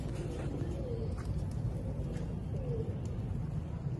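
Pigeons coo in soft, repeated low calls over a steady outdoor hum and rustle, a few evenly spaced coos rising faintly from the background noise.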